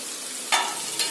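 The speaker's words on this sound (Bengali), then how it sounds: "ঝিঙেগুলো দিয়ে আবারও একটু টাইম ভালো করে কষে নেব।" Ridge gourd and fried potatoes cooking in a pan, a soft continuous sizzle broken by two brief stirring scrapes, close and moderately loud with no talking.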